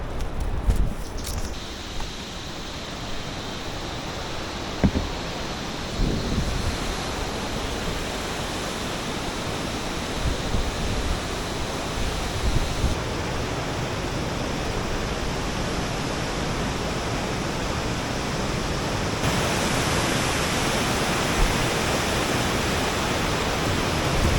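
A Himalayan river rushes along continuously, a dense broadband roar of churning water that stays loud and steady, with a few faint knocks and footsteps early on and no talk.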